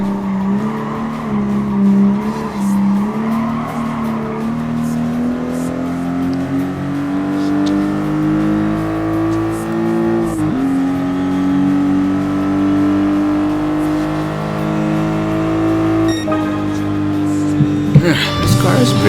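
Toyota GR Supra RZ racing in Gran Turismo Sport, its engine droning loudly and rising steadily in pitch through long pulls, with a brief shift dip and a burst of tire squeal near the end.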